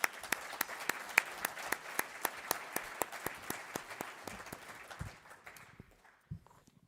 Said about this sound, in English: why don't we give a round of applause to our panelists